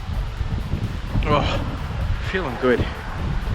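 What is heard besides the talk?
strong wind blowing into the microphone outdoors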